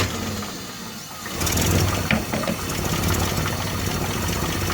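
An engine fires up and idles during an ignition timing check. Near-quiet at first, it catches about a third of the way in and settles into a steady, loud, rumbling idle.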